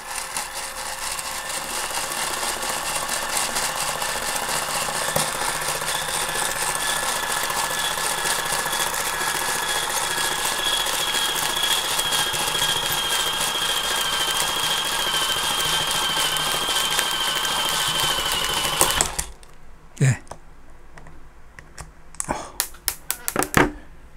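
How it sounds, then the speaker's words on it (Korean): The EMG AutoBot, a portable electric BB loader, whirs continuously under its strong motor, a close, steady buzzing grind that stops abruptly near the end, followed by a few scattered clicks and handling sounds. "이게 모터 장력이 엄청 세네요."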